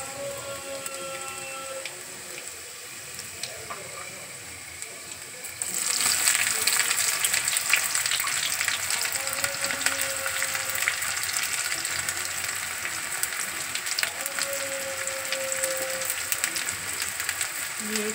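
Onion and garlic frying in a pan for a Bombay duck fish curry: after about five quiet seconds, a loud, steady, close sizzle starts and continues without a break.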